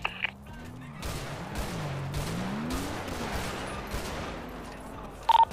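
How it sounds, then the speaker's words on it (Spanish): Rapid gunfire in GTA NoPixel roleplay cracks out as a fast string of sharp shots over a low droning engine tone, with brief horn-like beeps at the start and end. "Estoy ya disparando con ellos"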